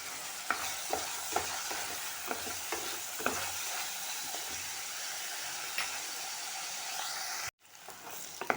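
Onion and tomato sizzle softly in a pan while a spoon scrapes and stirs in repeated taps, then the sound briefly cuts out.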